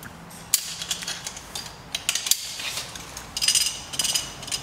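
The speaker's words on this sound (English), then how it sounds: "we would add a second change of direction pulley at the anchor side" Metal clicks and clanks of a change-of-direction pulley and carabiner being added at the anchor of a rope rescue haul system: a few sharp, close ratcheting knocks spread through the clip, then a busier flurry of rattling near the end.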